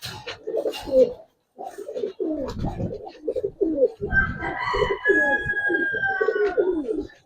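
Giribaz pigeons coo repeatedly in a loft, their soft rhythmic calls close and continuous, with a thin whistling tone joining in the second half.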